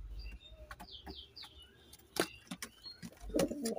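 Giribaz pigeon from a breeding pair cooing in a few short low calls, close by, with brief wing flaps and chirps from other birds in a quiet loft.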